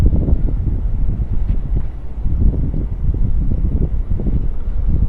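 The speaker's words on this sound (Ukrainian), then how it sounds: "На воді ніби хвильки немає, а такий вітер неприємний" Steady wind over water in winter buffeting a microphone, a continuous low rumbling roar with gusty swells and no voices.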